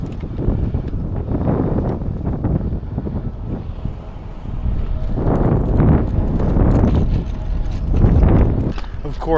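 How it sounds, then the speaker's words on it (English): Strong wind gusts of 50-60 mph buffet the microphone outdoors, heavy rumbling blasts that swell and fade in waves over several seconds. "Of course, this is the day with 50-60 mile per hour gusts."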